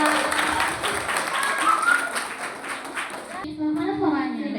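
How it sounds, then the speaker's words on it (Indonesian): Students clap together during a school outreach session on early marriage and drugs, a moderate burst of hand clapping in a room that breaks off abruptly, after which voices speak. "Tepuk tangan dulu."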